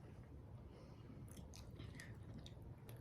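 Someone crunches and chews a freeze-dried pumpkin pie bite up close, with faint crisp crackles over a low, soft mouth sound and no talking.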